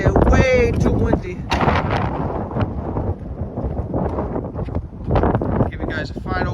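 Strong wind with snow flurries pounds the microphone outdoors beside a 2002 Cadillac Eldorado ETC Collectors Series, heavy thumping gusts and roar under a man's speech.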